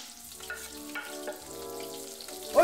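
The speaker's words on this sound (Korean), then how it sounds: "고기가 품고 있던 기름에 손질해준 채소를 볶아 풍미를 높여줍니다" Vegetables stir-fried in fat rendered from browned meat sizzle steadily at close range, with a few scraping stirs and a louder clatter near the end; no voices.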